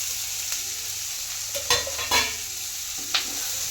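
A spoon stirs fried chillies into chicken manchurian in a pan, a few soft scraping strokes over a steady background hiss of frying.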